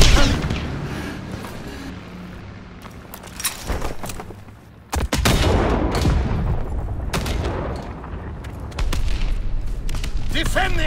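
Artillery barrage in Call of Duty WWII, heavy booms and gunfire bursts rolling through an intense battle soundscape, with loud impacts around the midpoint and continuous dense noise throughout, a voice shouting over it.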